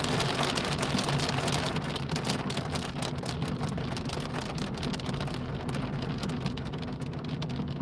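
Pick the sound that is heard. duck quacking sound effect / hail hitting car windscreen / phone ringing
hail hitting car windscreen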